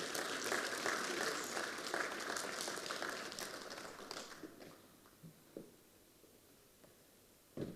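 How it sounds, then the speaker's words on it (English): Audience applause at a stakeholder engagement forum as a guest comes forward, a dense steady clapping that fades over several seconds into a quieter room with scattered claps. "may we please give Mr. Kobus Stradom a huge round of applause as he comes forward."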